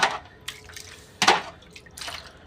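Eggs being washed with disinfectant in a tray, close water splashes and drips in a few separate bursts with brief quiet gaps, no talk.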